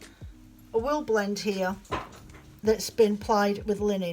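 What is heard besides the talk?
dog whining and panting after the postman came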